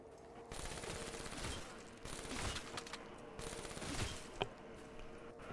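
Rapid automatic gunfire in Call of Duty Black Ops 3 Zombies, several long bursts of fast shots separated by short pauses, fairly quiet in the mix.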